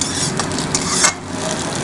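A utensil stirs and scrapes fried egg in a frying pan over a steady oil sizzle, with a few light knocks against the metal, while making Bengali-style egg chow mein.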